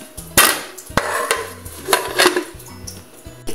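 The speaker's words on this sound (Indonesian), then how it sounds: "Kita tutup deh selama 10 menit." A lid is set onto a cooking pot of beef rib, chicken feet and meatball soup, with several sharp metal clanks and clatters scattered close by, and no talking.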